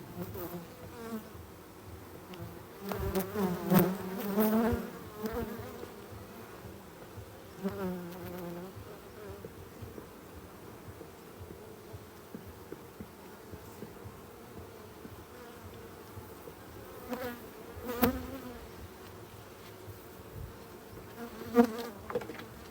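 Honeybees buzzing around a hive, a continuous drone with louder swells as bees pass close, plus a few brief knocks and rustles.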